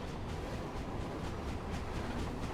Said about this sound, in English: I'm gonna drive the train to the water.